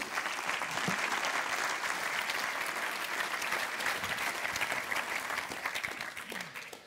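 An audience at an evening business awards ceremony for entrepreneurship in Lyon claps steadily, a dense sustained applause filling the room throughout before tapering off at the end.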